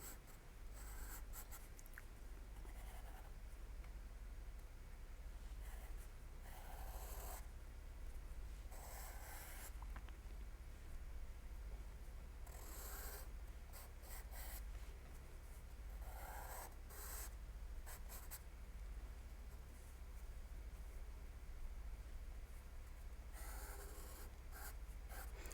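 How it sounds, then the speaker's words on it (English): A pastel pencil sketches a lotus flower on paper in soft, faint scratchy strokes that come in short repeated bursts with pauses between them, quiet and close, with no talking. "we are just drawing some petals here and doing the same, like a more open bud here"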